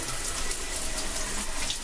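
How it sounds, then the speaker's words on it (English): Shower water runs with strong pressure in a small cabin bathroom aboard the Disney Wonder cruise ship, a steady dense hiss that stays close and unbroken throughout. "water pressure on here is excellent"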